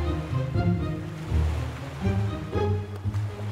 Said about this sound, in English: That's why the waves are so wild.